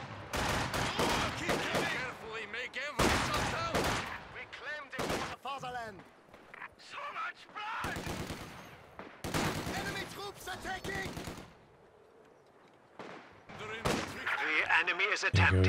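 Bursts of machine gun fire and other gunshots in a real-time strategy game, sharp rapid rattles in repeated clusters with short pauses, loud and close, while a commentator talks between and over them.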